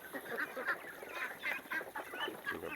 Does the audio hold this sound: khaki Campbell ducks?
yes